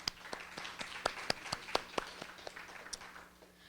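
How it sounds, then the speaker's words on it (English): Applause at an awards ceremony, heard as a thin scattering of individual claps, fairly faint and slightly distant, tapering off toward the end over a low steady hum. "So can you please give yourselves a round of applause?"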